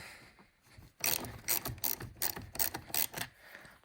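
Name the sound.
ratchet loosening 10 mm battery terminal nuts, Dodge Durango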